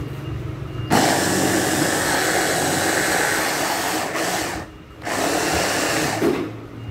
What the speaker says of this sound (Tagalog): una nating igigiling ay itong ating radish